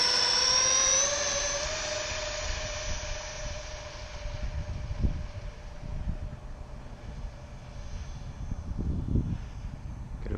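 A radio-controlled model Airbus A340 jet spools up for takeoff, a high turbine whine sweeping upward then settling into a steady drone with rumbling gusts, fairly loud and without voices.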